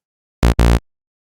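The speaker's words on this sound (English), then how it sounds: "It's just a single oscillator playing a saw wave." An Arturia SQ80 V synthesizer plays two short buzzy saw-wave tones from a single oscillator in quick succession, the second a bit longer, bright and harmonically rich, then silence.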